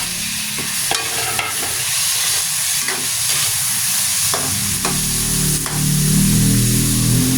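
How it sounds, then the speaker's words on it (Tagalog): Ginger sizzling as it's stirred in hot oil for salmon sinigang, with onion, garlic and tomato following. The frying is steady and close, broken by scrape-and-stir strokes, and grows louder and fuller after about five seconds. "Tapos naggisa lang ako ng luya"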